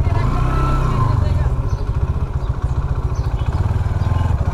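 A motorcycle engine runs nearby while the bike is parked among other bikes at an event, a low steady rumble with a person talking over it.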